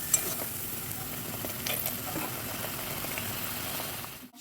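A spice paste with turmeric powder fries in a pan for a rohu fish curry with cauliflower and potato, giving a soft, continuous sizzle with faint stirring scrapes, alone and fairly quiet.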